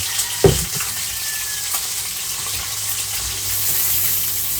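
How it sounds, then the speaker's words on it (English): Steady frying sizzle from fish in a hot pan, a constant crackling hiss with a brief clatter near the start. "So now we get the fish frying,"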